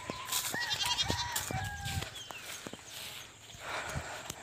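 Pregnant goats on a farm bleat in short, repeated calls against a busy backdrop of farm sounds, including knocking and rustling as they eat, with fowl chattering faintly nearby.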